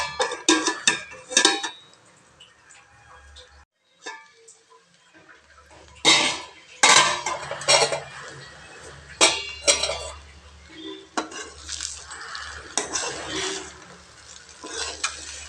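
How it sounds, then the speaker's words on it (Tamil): Cooked rice is stirred in a metal pot and pressed down, and then the lid goes on. Clinks and scrapes of a spoon against the pot come in bursts, with quiet gaps between them. "சாப்பாடு நல்லா கிளறிட்டு இப்போ அமுத்தி வச்சுட்டு மூடி வச்சிடலாங்க."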